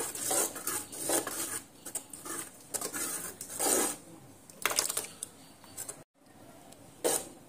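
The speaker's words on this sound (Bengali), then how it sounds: "কাজু আর কিশমিশটা দিয়ে আবারও আমি এইভাবে গোল হাতা নিয়ে আবারও আমি এইভাবে নাড়তে চাড়তে থাকবো" A round ladle stirs Gobindobhog rice rabri with cashews and raisins in a pot, giving intermittent scrapes and soft taps against the metal in loose, uneven strokes at moderate volume, with no talking.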